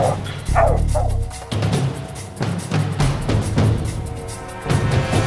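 Hunting dogs on a cat track bark and bay in repeated loud bursts, several voices overlapping outdoors at close to moderate distance with short pauses between rounds.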